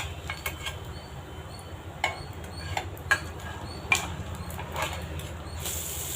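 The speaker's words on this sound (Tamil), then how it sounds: "ரெண்டு கரண்டி வச்சுட்டு அப்படியே அலாக்காக திருப்பிடலாம்" Two metal ladles flip frying evening snacks in a pan, giving sparse, sharp clinks and scrapes over a low, steady background hum.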